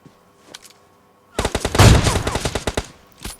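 Rapid automatic gunfire from PUBG Mobile Lite, a dense loud burst of shots lasting over a second after a few faint scattered clicks, with one more shot at the end.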